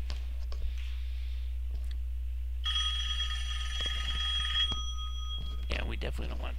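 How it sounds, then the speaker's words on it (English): A telephone rings with a steady electronic trill for about two seconds in a flight simulator cockpit while taxiing, over a constant low engine hum, with brief speech and clicks around it. "Phone ringing like that."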